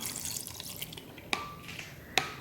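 Lime juice poured into a bowl: a faint trickle with a few splashy drips, two sharper drops standing out, close by in a quiet kitchen.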